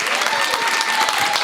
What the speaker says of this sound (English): let's do one more round of applause for this incredible panel.